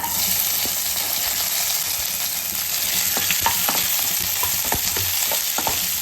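Onions frying in hot oil with bay leaf, cinnamon, cloves and cardamom, a steady loud sizzle with occasional stirring clinks and scrapes, close and continuous, no voices.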